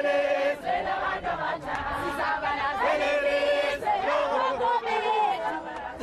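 Large roadside crowds greet Nelson Mandela's coffin on its way from Mthatha airport to Qunu, ululating, cheering and singing in a loud, sustained, festive roar with voices rising and falling throughout.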